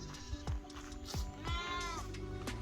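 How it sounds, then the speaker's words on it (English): Kurumbai sheep on a farm in India bleat in several overlapping calls as the flock moves out, with rustling and shuffling close by. "The sheep start moving out in the direction where the shepherds guide."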